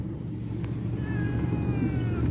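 A cat meows with a drawn-out, wavering call in the second half, fairly close, over a low rumble of passing road traffic.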